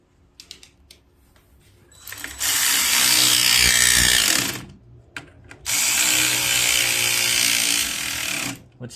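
Screws are tightened into a plastic part on a John Deere Z445 zero-turn riding mower with a power driver, heard as two sustained whirring bursts of a few seconds each, separated by brief handling clicks and a short pause.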